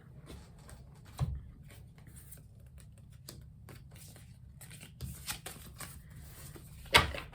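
A deck of cards is shuffled during a tarot-style card reading, giving soft riffling patters and taps with a few sharper snaps, close and moderately quiet in a calm room.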